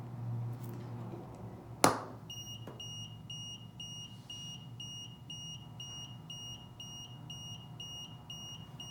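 A sharp click, then a series of high electronic beeps from a security alarm notification repeating at a steady rhythm against a quiet background hum.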